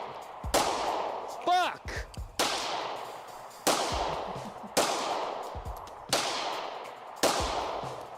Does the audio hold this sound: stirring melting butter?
no